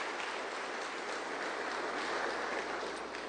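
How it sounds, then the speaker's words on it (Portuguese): A church congregation at a Sunday service claps steadily, a dense, even wash of applause holding at a moderate level from start to finish with no voices over it. "Dê uma forte salva de palmas para o Senhor Jesus"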